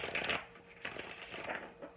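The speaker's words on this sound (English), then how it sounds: "I have the main cards shuffled, just going to do the clarifiers." Crisp papery riffling of tarot cards being shuffled in short bursts, close up and fairly quiet, with brief pauses between passes.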